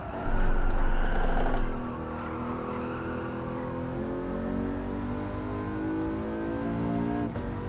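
In Gran Turismo 7, a race car's engine drones in fourth gear, revving hard at first and then settling into a sustained, fuel-saving tone, loud and close with light tire noise.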